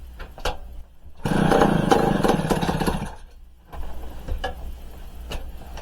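A 1970s moped engine on a cold day, choke pulled, sputters briefly for about two seconds during a start attempt and then dies, leaving a lower mechanical rumble.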